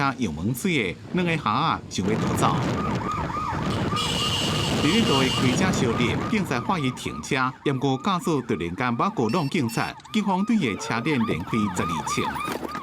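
A police car siren wails repeatedly in a steady rising and falling pattern during a late-night chase of a drunk driver, loud and close under continuous news narration.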